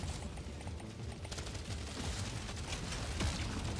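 Rapid automatic turret fire from the video game Deep Rock Galactic Survivor, a dense continuous barrage of gunfire with layered game effects, loud and steady throughout with no talking.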